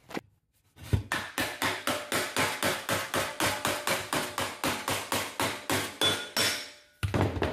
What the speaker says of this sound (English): all I will need to do is tap on this back and it should pop right off